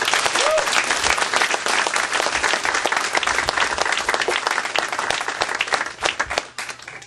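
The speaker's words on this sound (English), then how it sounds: "And for that, let's give him a round of applause." A crowd gives loud, dense applause for Congressman Bishop at a charity event, continuous clapping filling the room for several seconds before tapering slightly near the end.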